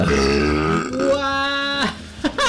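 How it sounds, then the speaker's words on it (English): A long, loud, deep belch right up close after eating spicy food, drawn out with a shifting pitch and ending in a couple of short grunting catches. "Is that a burp? There's a burp."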